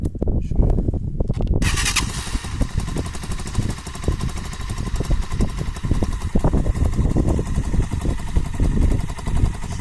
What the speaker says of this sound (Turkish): Motor 200 cc'lik Rifan GY200 e modeli. Bir çalıştıralım, görelim.